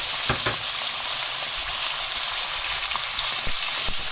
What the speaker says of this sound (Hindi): ऑयल गर्म हो चुका है तो मैं पहले इसमें चिकन डाल रही हूँ।